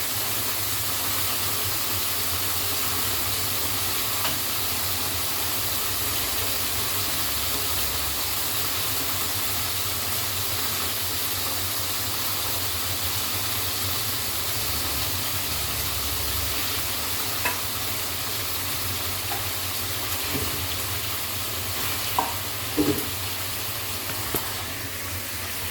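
Pork sizzling and frying in a pan, a second batch going in, with a steady loud hiss throughout and occasional stirring clinks and scrapes, no talk.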